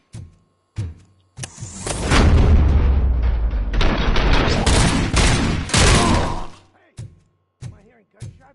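A burst of rapid gunfire from a RoboCop video game, preceded by a few short sharp shots, then several seconds of dense sustained shooting and booms, ending with scattered single shots.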